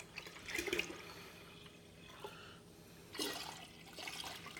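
Water poured out for a batch of kombucha, heard in two brief splashing bursts separated by a quiet stretch, with a faint trickle in between and no talking.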